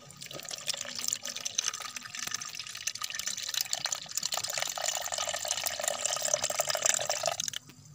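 Water pours steadily into a liquid mycorrhiza mixture, a continuous trickling, splashing stream that holds for several seconds at moderate loudness before stopping abruptly near the end.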